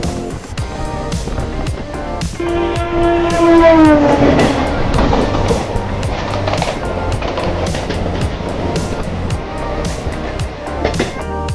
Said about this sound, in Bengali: আমাদের ট্রেনটি পরপর দুটো ট্রেন ক্রস করে